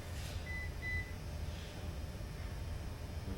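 Two short electronic beeps, evenly spaced and fairly faint, sound early over a quiet room hum, then nothing more.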